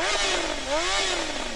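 Motorcycle engine revving up and down in a couple of rising-and-falling swells, fairly close and moderately loud over a low rumbling background, with no speech.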